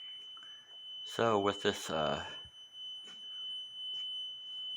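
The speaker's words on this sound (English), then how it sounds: "loud beeping alarm" A loud, steady electronic alarm beeps inside an abandoned hospital with active utilities, a sustained high tone running through the whole stretch while a person speaks briefly over it.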